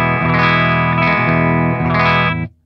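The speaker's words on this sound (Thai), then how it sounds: "ก็เดี๋ยวเสียงคลีนเปล่าๆเป็นอย่างนี้เลยนะครับ" An electric guitar played through an amp with a clean tone and no delay: loud, sustained strummed chords ring out, are restruck a few times and then stop abruptly, with no voices.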